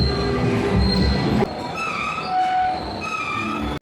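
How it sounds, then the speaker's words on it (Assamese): Trains, including a freight train, roll past at close range in West Bengal's Alipurduar, with rumbling wheels, metallic squeals and whining tones shifting over a steady clatter; no speech is heard. "আজিৰ দিনত বহুত ট্ৰেইন দেখা পালোঁ মালবাহী আৰু ট্ৰেইন আহি আছে।"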